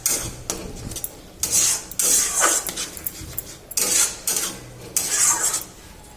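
Egg being mixed into potato masala in a pan, heard as repeated rasping scrapes of a spoon across the pan in bursts of about a second, separated by short pauses, close and moderately loud.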